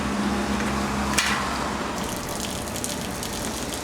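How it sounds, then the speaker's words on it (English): Near-boiling water gushes through the dip tube of a beer keg during cleaning, a steady close-up hiss with a brief louder burst near the start. "just let the pressure rinse out the inside of the dip tube"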